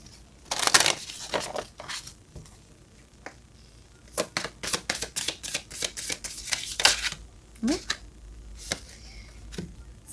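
A deck of tarot cards is shuffled by hand in rapid, crisp riffles and slides, close and fairly quiet, in bursts with short pauses between them.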